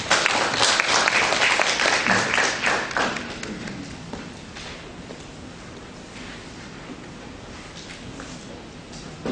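Applause from the audience at an architecture and urban space forum, a dense burst of clapping that is loudest in the first few seconds and then thins and fades into a quieter room.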